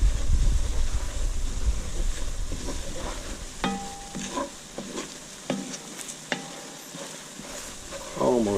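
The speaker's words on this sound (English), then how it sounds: "Can't stop stirring it once you put the flour in." Flour is stirred into a sizzling roux in a pot for roasted cauliflower garlic cream soup, with loud frying at first, then quieter scraping strokes and crackles from the spoon, and no speech.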